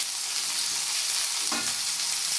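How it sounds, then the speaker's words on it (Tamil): Steady sizzling of onions frying in hot oil, a constant loud crackle with a brief stirring clatter midway, no voices. "இப்போ பொடியாக நறுக்கிறதுக்கு வெங்காயத்தை போடுறேன்."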